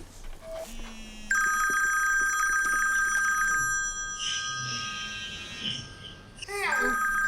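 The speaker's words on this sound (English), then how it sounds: "I'm going to give you a phone call, but don't answer it." A phone's ringtone sounds for an incoming call, a steady electronic ring that starts after about a second and keeps going, fairly quiet, with a child and an adult talking over it.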